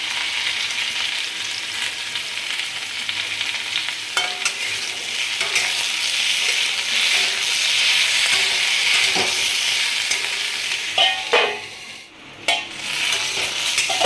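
Potato and eggplant pieces frying in a pan give a loud, steady sizzle that holds for the whole stretch, with a few stirring scrapes and a brief dip near the end.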